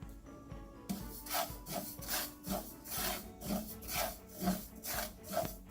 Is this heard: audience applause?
no